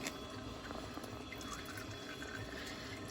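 Engine oil drains from a Kubota L3840 tractor into a pan, a steady, soft, continuous pouring and trickling of liquid that stays faint throughout, with no voices.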